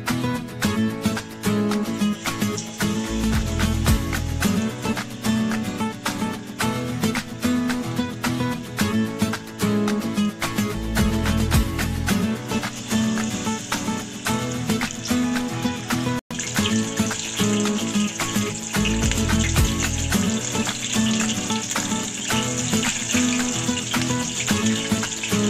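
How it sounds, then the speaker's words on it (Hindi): Batter-dipped paneer pieces deep frying in hot refined oil in a kadai, with a dense, continuous loud bubbling and crackling hiss and a few louder surges along the way, close up. "पनीर के पीसेस को हमने बहुत अच्छे से फ्राई कर लिया है"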